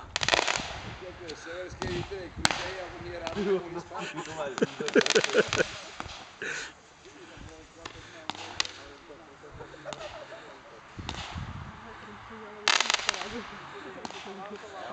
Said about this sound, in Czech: To jsou ty římský světlice, tohleto.